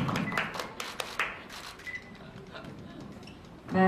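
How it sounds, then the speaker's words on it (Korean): Scattered applause from an audience at a PerVoi home-aesthetic cosmetics launch show, a few sharp claps early that thin out beneath a host's speaking voice, ending with a short burst of noise. "박수 부탁드립니다"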